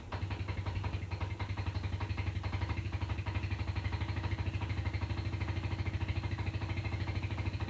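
A Yamaha Scorpio motorcycle engine runs rough even after an oil change, a steady close idle with a low throbbing pulse and uneven mechanical rattle, continuous for the whole stretch with no talk.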